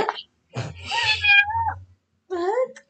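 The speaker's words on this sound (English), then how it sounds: "A cat." A cat lets out a drawn-out, wavering meow, followed after a short pause by a second, shorter meow, close and clear.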